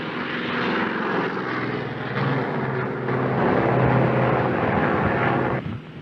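A propeller-driven aircraft drones steadily on a carrier deck landing approach, its engine loud and close, swelling slightly before easing off near the end.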